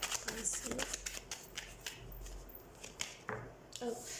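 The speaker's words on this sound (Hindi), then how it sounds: "सबसे पहले हम कार्ड शफल कर लेते हैं।" Tarot cards shuffled by hand in quick, papery riffles and flicks, close and fairly quiet, with someone speaking faintly during the shuffling.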